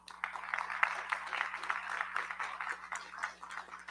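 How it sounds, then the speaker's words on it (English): Audience at a public school board of education meeting applauds, a moderate patter of many hands clapping with a steady, slightly uneven rhythm, a faint electrical hum beneath. "So let's give them a round of applause."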